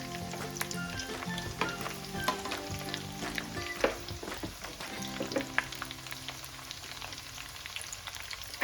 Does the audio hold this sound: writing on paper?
no